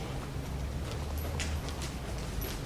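Horse hooves clip-clopping at a walk while the horse is lunged, faint repeated footfalls under steady background noise.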